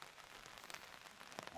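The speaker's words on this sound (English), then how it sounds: "you could hear the rain coming down in the background." Steady rain falls outdoors on a golf course during a tournament round, a soft continuous patter and hiss with a few brighter drop hits, faint and even throughout with no voices.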